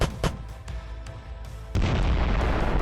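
Drone strikes hit enemy positions in a village during combat with a Bradley fighting vehicle, sharp booming blasts with a deep rumbling aftermath, then a sudden heavy roar of continuous low noise.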